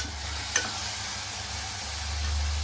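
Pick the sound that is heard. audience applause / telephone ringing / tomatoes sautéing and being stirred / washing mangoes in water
tomatoes sautéing and being stirred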